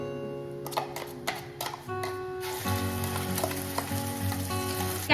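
Garlic paste hits a hot pan of roasted cumin in a dhaba-style cashew garlic curry, breaking into a loud, steady sizzle with scattered crackles and ticks, close up and with no talk.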